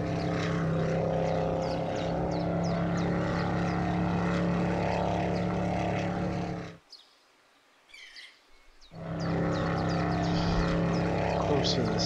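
A boat engine running in the fishing video game Professional Fishing, a steady propeller-like drone holding for several seconds, cutting out abruptly, then resuming at the same level, with a person talking over it.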